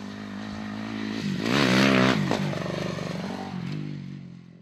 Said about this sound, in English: does massive jumps on the bike